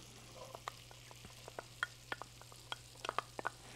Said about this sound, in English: you can see it's a nice sizzle now